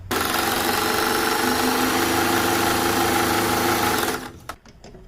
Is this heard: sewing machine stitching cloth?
yes